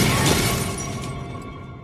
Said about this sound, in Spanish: los cristales se han caído sobre las calles desiertas